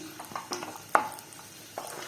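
Cashews and raisins fry in ghee with a soft sizzle, broken by a few stirring clicks and one sharper tap of a spoon against the pan.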